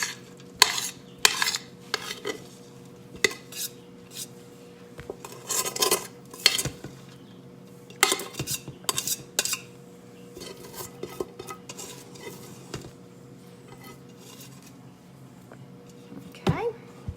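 Spoon scraping and clinking against a bowl as cornbread dressing with chopped boiled eggs and cooked rice is mixed, in irregular bursts of clatter close by, with someone talking at times between the strokes.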